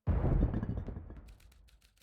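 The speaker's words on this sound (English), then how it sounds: "A sudden explosion sounded from the hall." An explosion goes off in a hall in the video game Beacon Pines: a sudden loud, booming burst that rumbles, then fades away over about two seconds into a faint crackling tail.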